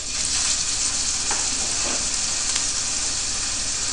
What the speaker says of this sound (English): if your oil is hot, the meat is going to start to sizzle